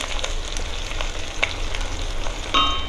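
Ginger tempering crackles and sizzles in hot ghee for sarson ka saag, a steady close frying hiss with sharp pops and a brief scrape of stirring.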